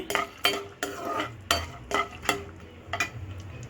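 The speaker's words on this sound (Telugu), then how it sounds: "వీటితో పాటు మనం పచ్చనగపప్పు కూడా వేపుకుందాము" Chana dal being stirred and dry-roasted in a pan for tamarind pulihora, with repeated scraping and clinking strokes of a spoon against metal in a quick rhythm, close by.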